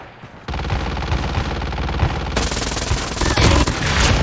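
Rapid automatic gunfire in the Call of Duty Mobile battle royale video game, dense continuous bursts starting abruptly and growing louder, close and dominant with no talk.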